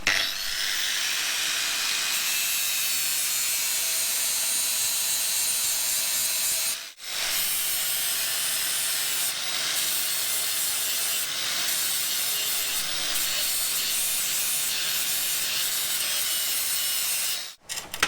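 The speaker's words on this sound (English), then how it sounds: "I was able to take my time with the flat disc and grind these back to a really nice smooth bend" A flat grinding disc smooths welded corners on reclaimed steel tube bars. It gives a long, loud, continuous abrasive roar up close, broken by two brief pauses.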